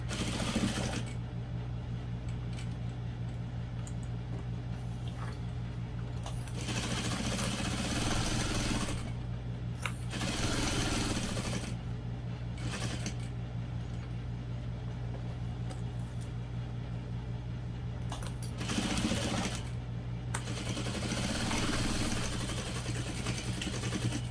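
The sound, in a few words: sewing machine stitching around a bag pocket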